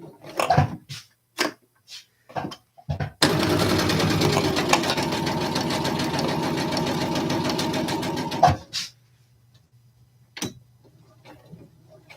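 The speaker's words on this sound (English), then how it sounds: "just going to start with just a regular straight stitch. We're going to back stitch a little bit. And then forward stitch." A sewing machine runs a straight stitch, reverses briefly for a back stitch, then stitches forward again: a steady, loud mechanical whir lasting about five seconds, framed by scattered clicks and handling knocks before and after, with no talking.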